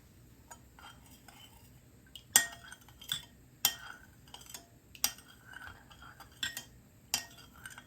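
Whipped shea butter mixture stirred in a bowl with a utensil, giving a series of sharp clinks and scrapes at an uneven rhythm over roughly eight seconds, close and moderately loud with no talking.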